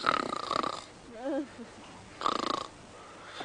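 Slow, rumbling rhinoceros snores come in two heavy rasping breaths separated by a pause, with a faint voice murmuring briefly in between.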